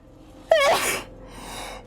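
A single sharp sneeze bursts out close up, a quick voiced intake and explosive release, followed by a soft breathy trailing hiss.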